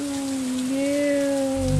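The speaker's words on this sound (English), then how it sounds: "since it's been raining a lot, we've gotten lightning, and that's a real crop killer" Rain falling in the Stardew Valley video game, a steady soft hiss of raindrops running under sustained musical tones for the whole stretch.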